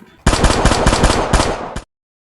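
Rifle fire in a dramatized scene: one loud, rapid burst of close gunshots rattles off in quick succession for under two seconds, then cuts to silence.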